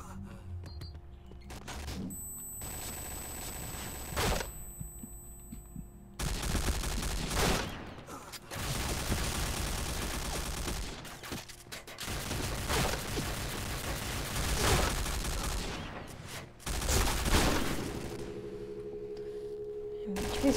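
G36C rifle gunfire in the shooting game PointBlank rattles out in several loud automatic bursts separated by brief pauses, with a faint hum between volleys.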